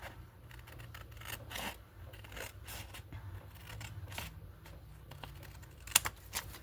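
Soft, scattered scissor snips and paper rustles come from trimming out the window of a paper envelope, several sheets cut at once. They are faint and irregular, with a sharper click near the end.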